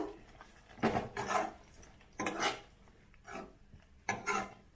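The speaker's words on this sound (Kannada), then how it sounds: "ಟೊಮ್ಯಾಟೊನ ಈ ತರ ತರಿತರಿಯಾಗಿ ತರಿಯಾಗಿ ರುಬ್ಕೊಂಡ್ ಬಂದಿದ್ದೀನಿ ಇವಾಗ ಇದನ್ನು ಹಾಕ್ತಾ ಇದ್ದೀನಿ ಇದನ್ನು ಹಾಕಿ ಚೆನ್ನಾಗಿ ಮಿಕ್ಸ್ ಮಾಡ್ಕೋಬೇಕು" Coarsely ground tomato paste is tipped into a cooking pot for mushroom biryani and stirred, with several bursts of scraping and clattering from a utensil against the pot separated by quieter pauses.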